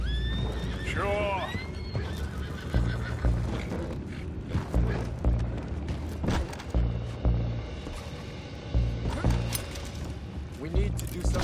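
Horses neigh and whinny with sharp rising calls early on, over clip-clopping hooves, creaking and clattering in a tense scene from the Red Dead Redemption 2 video game, while a voice speaks over the commotion.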